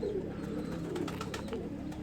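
Faint, low, repeated cooing from a Faisalabad pigeon in a breeding loft, soft throaty coos recurring under a steady background hum.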